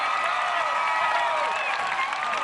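A large arena crowd at an American Ninja Warrior course roars and applauds steadily, with whistles and cheering voices blending into a dense, sustained wall of sound, and no single voice standing out.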